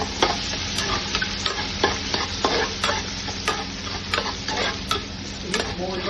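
Chopped shallots and onion fry in a pan of nearly cooked grated coconut, giving a steady close sizzle broken by frequent spoon-scraping stirs.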